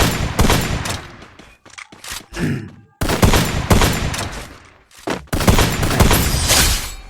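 Rapid automatic gunfire from the Free Fire battle-royale video game rattles out in dense, loud bursts separated by brief pauses, with sharper single shots scattered between the volleys.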